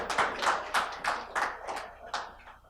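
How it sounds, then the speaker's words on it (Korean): A small audience at a Seoul National University alumni forum lecture clapping in a brief burst of uneven, close handclaps lasting a few seconds, with no talking. "여기서 박수 한번 쳐야 되는 거 아닙니까?"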